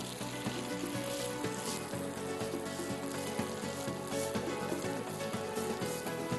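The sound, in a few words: chicken paniyaram frying in a pan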